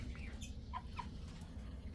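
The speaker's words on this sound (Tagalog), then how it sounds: "Ang ating mga cute na manok." Soft, short clucks from chickens come in a few scattered bursts over a low background rumble, fairly close but quiet.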